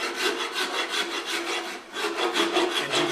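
Wood rasp carving a wooden guitar neck, loud close rhythmic scraping strokes repeating steadily back and forth with no talking.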